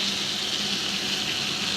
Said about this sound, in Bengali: পেঁয়াজের মধ্যে পানি দিয়ে দিচ্ছি